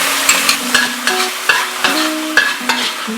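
A sauce of ketchup, barbecue sauce, garlic chili sauce and sugar is heated and stirred in a wok. A utensil scrapes it in a regular rhythm of sharp strokes about every half second, close and fairly loud, with background music beneath.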